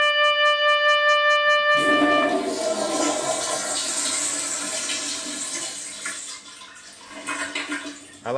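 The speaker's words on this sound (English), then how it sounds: "I like to hear that extra flush." A toilet flushes loudly and close by, a sudden rushing swirl of water that churns and gurgles for several seconds, then drains away. A short musical tone plays just before it.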